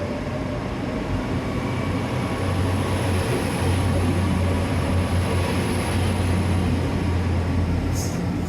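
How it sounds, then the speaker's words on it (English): The Torbay Express pulls out of Teignmouth station with a continuous low rumble and a steady hum, loud and unbroken throughout, and a brief faint squeal near the end, with no talking. "The Torbay Express departs Teignmouth."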